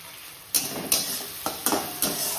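Spice paste of ginger, chilli, garlic and ground spices frying in oil in a pan gives a soft sizzle under five sharp stirring scrapes of a utensil against the pan, irregularly spaced.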